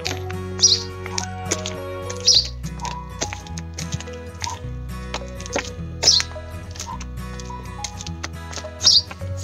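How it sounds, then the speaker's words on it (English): Wild birds chirp outdoors during a walk with a parrot in a carrier backpack, giving bright, short tweets in scattered bursts over a soft, steady background with several calls standing out close by. "He hears the birds chirping."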